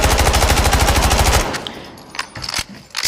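Rapid automatic gunfire from a weapon in Delta Force Mobile, a loud close burst of evenly spaced shots lasting about a second and a half, followed by scattered clicks and faint game noises.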